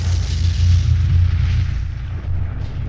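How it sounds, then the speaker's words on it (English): Nuclear bomb explosion sound effect: a deep, heavy rumble that rolls on without a sharp onset, sustained and loud before slowly thinning and fading. "As a big ass explosion."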